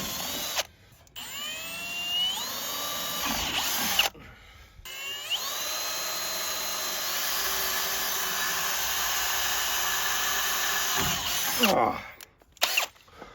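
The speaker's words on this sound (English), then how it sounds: "I'm gonna go ahead and drill some holes." A power drill bores holes for fitting a steel 4th Gen Dodge bumper onto a 2nd Gen Ram truck: close, loud whining bursts that rise in pitch as the motor spins up, separated by short pauses.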